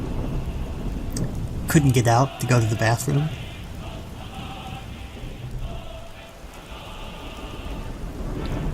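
Rumbling thunder and steady rain of a rad storm in the Fallout video game, with a loud thunder burst under a man's speech, then continuing rain hiss as he keeps talking.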